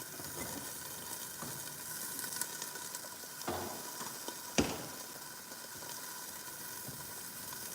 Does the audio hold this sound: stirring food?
yes